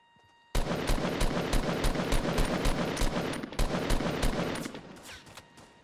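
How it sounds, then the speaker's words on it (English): Rapid bursts of automatic gunfire in the video game Fortnite, a dense loud string of shots lasting about four seconds before fading. "They're shooting each other."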